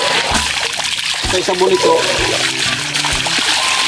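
Water splashes and trickles while someone bathes in a cold, constantly flowing river, with voices talking over the water throughout.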